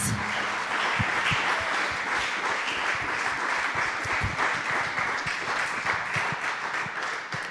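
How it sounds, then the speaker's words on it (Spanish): Bilingual church congregation applauding for Jesus Christ, sustained crowd clapping with distinct individual hand claps poking out, steady and moderately quiet, lasting over seven seconds and tapering slightly at the end. "Give God an applause."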